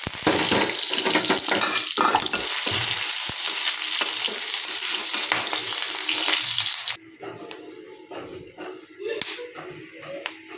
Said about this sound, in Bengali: আলু ও বেগুন ভর্তার জন্য আমি মরিচটাকে তেলে ভেজে নেব।